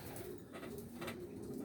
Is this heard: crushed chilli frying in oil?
no